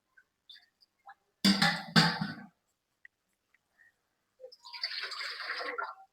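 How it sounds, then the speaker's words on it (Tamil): Water poured into an idli steamer pot in a home kitchen: a short splashing burst, then after a pause a longer steady pour, fairly close and moderately loud, with no talk. "இட்லி பாத்திரம் வச்சு தண்ணி ஊற்றிக்கோங்க."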